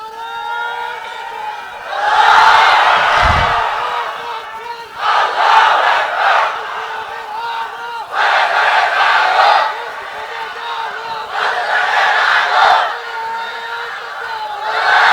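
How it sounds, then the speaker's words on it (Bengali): A large crowd at a Bangla waz religious gathering chants takbir in unison, giving four loud collective shouts in a steady call-and-response rhythm, with a single leading voice in the quieter gaps. "দেন তো দেখি একটা তাকবীর।"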